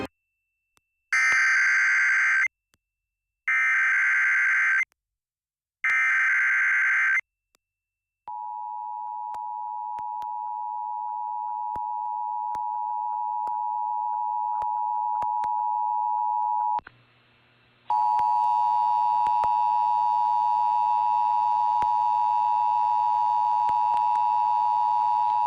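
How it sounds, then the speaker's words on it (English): Emergency Alert System test tones broadcast on a local FM radio station: three loud, evenly spaced bursts of harsh digital header tones, then a long steady attention tone, followed by a sustained droning tone with a low hum beneath it. "This is a coordinated monthly local test of the emergency alert system"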